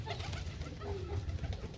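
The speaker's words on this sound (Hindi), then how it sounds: "ये कुछ कबूतर भाई खुले हैं" Pigeons coo softly in a low, repeated rhythm close by, with quiet background noise around them.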